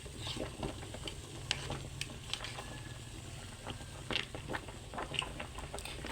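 Homemade soap mixture scented with essential oil is stirred by hand, soft repeated scraping and patter at low level over a faint background hum, with no talk.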